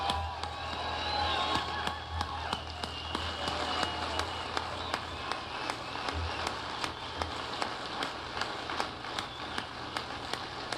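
Crowd applause at a Mitt Romney campaign speech in Golden, Colorado, steady clapping from a large outdoor audience with sharp individual claps standing out, little talk.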